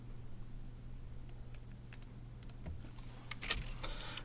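Quick key presses as numbers are entered into a calculator during an algebra lesson on the quadratic formula, a short run of taps over a low steady hum, fairly close and not loud, with no talking.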